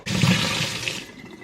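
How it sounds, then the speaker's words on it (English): Tap water runs hard into a baby bottle as it is rinsed, a loud close rush that starts abruptly and fades over about a second and a half. "And then I'll just rinse out this bottle and throw that in there too."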